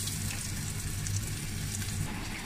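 Green chili with cumin seeds, chopped garlic and onion frying in hot oil gives a steady, dense sizzle that stays even and fairly loud throughout, with no voices.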